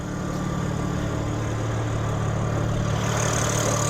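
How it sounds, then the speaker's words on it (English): A 2024 BMW M3 Competition's S58 3-liter inline-six twin-turbo engine idling with the hood open, a steady low, even rumble held close and loud without variation, no voices. "underneath the hood is the S58 inline-six 3-liter twin-turbo engine, 503 horsepower"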